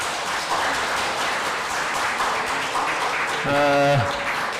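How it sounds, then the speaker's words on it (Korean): An audience at a government policy forum in Seoul claps steadily throughout, a continuous wash of applause from many hands, with a voice speaking briefly over it near the end. "그럼 지금부터 제 190회 세종로 국정포럼을 큰 박수로 시작을 하겠습니다"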